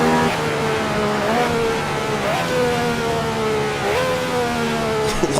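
A 1967 race car engine held nearly flat out at Monza in Assetto Corsa, loud and close, with a sustained high-pitched roar and brief throttle lifts or gear shifts that dip and climb again every few seconds.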